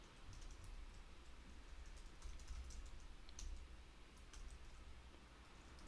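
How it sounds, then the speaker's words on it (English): Typing on a computer keyboard: a faint, quick, irregular patter of light key clicks over a quiet room hiss, with no talking. "Don't worry about all the stuff I'm typing here."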